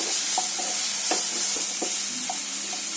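Chicken fried rice being stirred and fried in a pan after soy sauce is added, with a steady sizzle and scattered scraping stir strokes, close and moderately loud with no talking.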